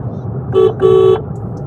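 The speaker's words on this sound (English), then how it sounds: "The horn placement is also good, not bad." Two short, loud honks from the horn of a 2021 Honda Amaze facelift, a brief toot followed by a longer blast, heard up close over low road noise.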